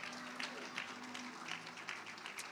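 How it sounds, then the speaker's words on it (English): Church congregation applauding young kids, faint steady clapping from a room, with a voice talking over it. "Give a round of applause for our young kids."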